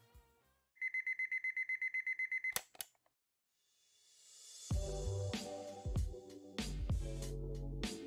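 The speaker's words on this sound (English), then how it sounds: "alarm went off" A morning alarm clock beeps in a rapid, steady run of bright electronic pulses for about two seconds, then stops with a couple of clicks, followed by music with a deep bass beat.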